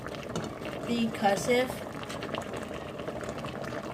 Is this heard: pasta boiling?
yes